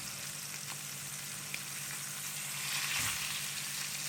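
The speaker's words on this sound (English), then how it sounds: "we're just going to saute it in the pan" Meat sautéed in a hot pan sizzles steadily, a bright continuous crackle with a soft low hum beneath and a brief clatter near the end.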